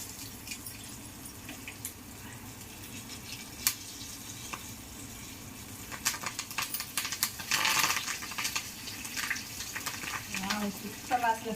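Fresh curry leaves dropped into hot oil with chillies for tempering a gangavelli chutney, giving a rising crackle and spitting sizzle that bursts loudest midway, mixed with scattered clinks and stirring noises, no speech.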